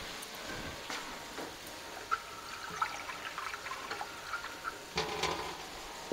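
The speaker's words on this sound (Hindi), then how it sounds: "इसलिए हम इसमें डाल दूँगी पानी।" Water is poured into a pot of dal wadiyan being cooked, a faint trickling and splashing with small ticks and clinks of kitchenware, quiet and close.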